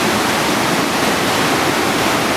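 A river rushing past an old dam near Cividale, heard as a steady, loud wash of broadband water noise, close and unbroken, with no voices.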